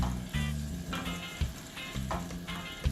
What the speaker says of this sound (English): you want to give it a stir.